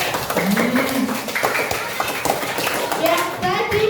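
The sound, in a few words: children clapping applause in class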